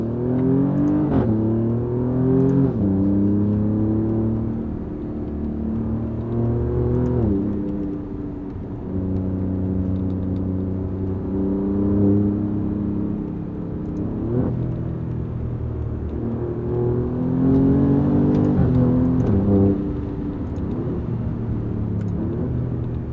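Alfa Romeo Giulia Quadrifoglio engine pulling hard on a back road, rising through the revs in repeated surges with quick shifts between them, loud and close from inside the car, with no talking.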